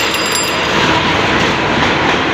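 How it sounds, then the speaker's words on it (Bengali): A local train rumbles across the Bally Bridge in Kolkata, a loud steady roar of wheels and rattling cars passing close by, continuous with faint high squeals and no voices. "তোমরা যেমনটাই দেখতে পাচ্ছ, একটা লোকাল ট্রেন যাচ্ছে"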